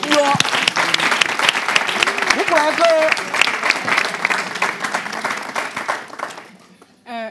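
Audience applause at a debriefing event: a crowd claps in a dense, sustained burst while a voice talks over it, and the clapping fades away near the end as speech briefly continues.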